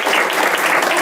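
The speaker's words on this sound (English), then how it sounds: "Let's give her a big round of applause" An audience at a county cancer caucus applauds. The clapping is dense and steady and fills the whole brief moment, with no voices over it.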